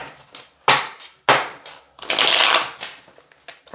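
Tarot cards are shuffled up close in several crisp riffling bursts, with a longer shuffle in the middle and soft rustling between them.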